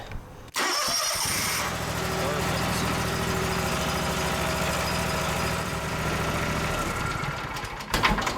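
A Gravely Pro Turn 152 zero-turn mower engine, just after an oil change, cranks and catches within a second, then runs at a steady, fairly loud idle for several seconds, with a brief noise near the end.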